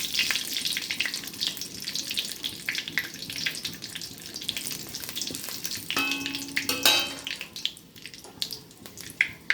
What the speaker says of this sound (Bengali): এরপরে দিলাম 2টো তেজপাতা, একটা শুকনো লঙ্কা এরকম ফাটিয়ে দিয়ে দিলাম।